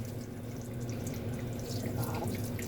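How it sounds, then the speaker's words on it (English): Water runs steadily into a cooking pot for corn, filling it to the bottom of the steaming rack in a home kitchen, a continuous close splashing and gurgling flow that holds level throughout. "all you got to do is put a little water"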